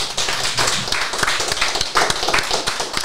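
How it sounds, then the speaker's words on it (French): A small group claps briefly and fairly close up for the guest at the end of a French podcast episode, with uneven, sparse hand claps. "Je pense qu'il mérite des applaudissements."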